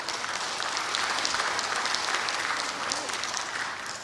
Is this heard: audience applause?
yes